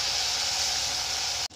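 Ginger garlic paste frying in a pan for Bombay potatoes gives a steady, loud hiss of sizzling that holds evenly, then cuts off abruptly near the end.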